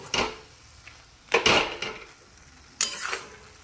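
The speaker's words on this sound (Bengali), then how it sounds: "ঝালটা আপনাদের ওপর দিয়ে ভালো করে মিক্সড করে নাড়াচাড়া করব।" Spatula scraping through a vegetable mixture of carrot, beet and potato with chili powder in a pan, three distinct stirring strokes with faint sizzling between them, close and fairly quiet with no talking.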